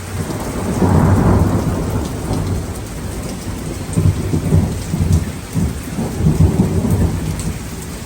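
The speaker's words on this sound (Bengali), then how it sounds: "এখন মোটামুটি বেশ ভালোই বৃষ্টি হচ্ছে।" Heavy rain falls steadily at night in London while deep thunder rumbles roll in, one early and several more later, over the dense patter.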